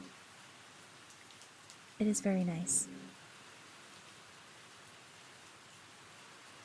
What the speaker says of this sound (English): The rain sound is very soothing